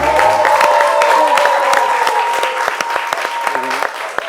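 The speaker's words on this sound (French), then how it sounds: "on applaudit Vital" A studio audience on a midday TV show applauds and cheers for Vital, loud clapping with sharp individual claps over tonal music and some voices in the background.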